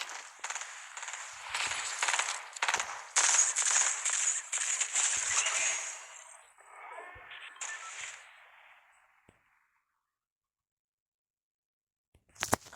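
Rapid bursts of Stark Industries rifle fire from the Fortnite Reload zero-build game crackle in quick strings for several seconds, then thin out into scattered shots and fade to near silence before a last brief burst.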